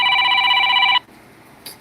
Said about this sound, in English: I gotta answer the phone again.